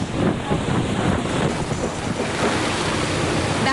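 Heavy surf churning under strong typhoon winds along the Visayas coast, a dense continuous roar of waves and wind buffeting the microphone, loud and unbroken.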